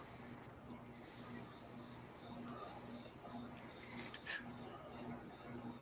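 Crickets chirping in a steady, evenly spaced pulse heard faintly throughout, with a low background hum and a brief scrape of other noise.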